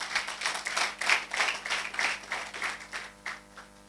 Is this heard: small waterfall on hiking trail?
no